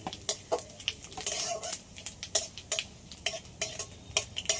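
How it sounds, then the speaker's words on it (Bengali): A metal spoon scrapes and clinks against a pan while a small amount of cumin seeds dry-roasts, producing rapid irregular clatter with a faint sizzle underneath and no talking. "অল্প করে জিরে নিয়েছি, একসাথে ভেজে নেব।"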